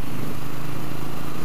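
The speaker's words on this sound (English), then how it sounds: "There's a great, great rumble underneath me." A Triumph T100 motorcycle engine rumbles steadily while being ridden, a loud, continuous low drone with wind noise and no break.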